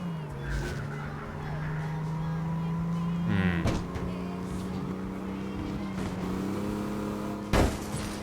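A video game car engine revs and builds speed in a sustained, rising drone, with a sharp knock near the end and a voice talking over it.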